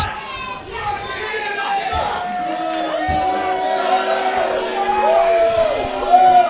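A wrestling crowd at a live chain match reacts with sustained jeering and booing that swells toward the end, while a commentator talks over it.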